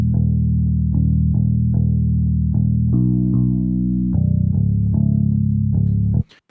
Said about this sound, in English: So the bass guitar just sounds like this.